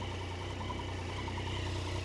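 A Yamaha Tracer 900 GT motorcycle engine idles quietly with a smooth, even low hum and steady vibration, with no talking over it.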